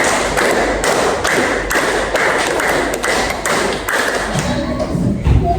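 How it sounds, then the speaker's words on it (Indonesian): A seventh-grade class claps hands together in the rhythmic 'tepuk 5' pattern, repeated twice: a series of sharp, evenly spaced group claps filling the room, loud and close, with faint voices near the end. "Tepuk 5 2 kali."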